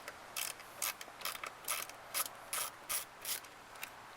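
A ratchet backs screws out of a front Bose speaker panel on a Chevrolet Corvette, giving about ten short, bright clicking bursts at a steady rhythm, close and clear with no talking.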